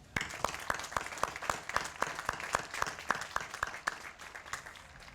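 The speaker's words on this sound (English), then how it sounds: "let me start for a round of applause for those folks" Graduation audience applause for the Lynn English class of 2022, with one nearby pair of hands clapping at a steady rhythm over a fainter wash of crowd clapping, moderately quiet.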